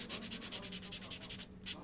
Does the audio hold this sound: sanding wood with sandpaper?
yes